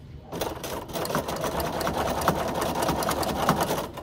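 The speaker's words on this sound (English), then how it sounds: "I start sewing off the quilt top" A sewing machine runs in one steady, continuous whir, stitching straight lines across a quilt top layered with backing and batting, close up and moderately loud.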